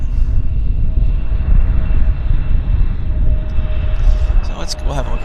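A WestJet airliner takes off at Vancouver airport, heard as a steady low, loud rumble with a faint whine, while a person talks briefly near the end.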